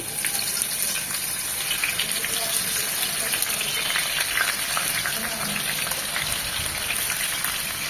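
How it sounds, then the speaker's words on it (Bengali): Boal fish dropped into hot soybean oil in a pan, giving a steady loud hiss and crackle of frying that fills the clip without pause. "তেলটা গরম হয়ে এসেছে, মাছগুলো তেলের মধ্যে দিয়ে দিচ্ছি।"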